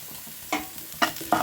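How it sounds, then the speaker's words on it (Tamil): Beans sautéing in a pan with turmeric powder: three short scraping stir bursts over a quiet, low sizzle, each stroke close and fairly crisp. "சும்மா லைட்டாக வதக்கிட்டு பிறகு"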